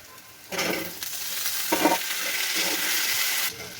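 Potatoes fry in a pan with mustard oil, dried chilies, onion and cumin for an Odia dried-fish curry. A loud sizzle bursts in and holds steady, broken by scraping stirs, with no talk.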